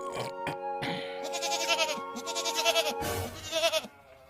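A heavy male goat bleats repeatedly up close, loud wavering cries one after another, with no speech over them.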